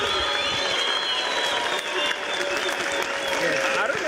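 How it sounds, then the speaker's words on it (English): City of Johannesburg councillors clap in the council chamber, loud sustained applause with crowd noise and voices mixed in throughout. "I don't know what you're clapping for."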